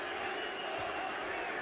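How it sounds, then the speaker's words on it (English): A boxing crowd at a heavyweight title fight between Nikolai Valuev and Evander Holyfield calls for more action, a steady far-off roar of many voices that stays constant throughout. "Crowd calling for more action."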